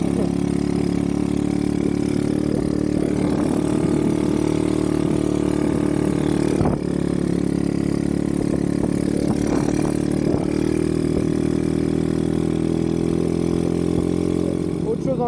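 Dirt bike engine being repaired, running at low throttle with the grip barely turned, a steady droning mid-pitched hum with harmonic layers and slight swells, continuous and close throughout.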